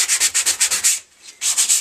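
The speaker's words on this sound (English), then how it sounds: "just sanding the paper down. Still perfectly serviceable wet and dry" Quick rhythmic strokes of fine wet and dry paper sanding a Harley-Davidson XL883 Iron motorcycle part, close and crisp, with a short pause before the scraping resumes.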